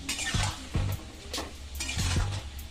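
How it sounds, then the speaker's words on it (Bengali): Crushed ginger and chopped chillies sizzle and fry in a pan for a katla fish curry with potato and cauliflower, with a steady close hiss and a few spoon-stirring scrapes and knocks. "এবার এগুলো আমি কষিয়ে নেব"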